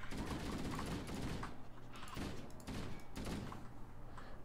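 Rapid bursts of gunfire against Covenant enemies in Halo: Combat Evolved, several clustered volleys in quick succession at moderate loudness with no talk over them.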